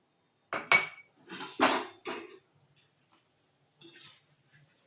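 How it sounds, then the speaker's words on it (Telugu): Roasted chana dal poured into a pan while making a poha mixture, giving a few loud rattling bursts with clinking utensil sounds, then quieter scattered rattles toward the end. "ఇప్పుడు వేయించిన శనగపప్పు కూడా వేసేసుకుందాము."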